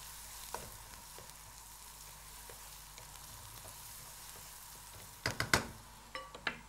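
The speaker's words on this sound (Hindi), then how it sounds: "इसको आपने अच्छी तरह फ्राई करते रहना है" Ingredients for kadai paneer fry in a kadai with a low steady sizzle, punctuated near the end by a few sharp clatters of a spoon stirring against the pan.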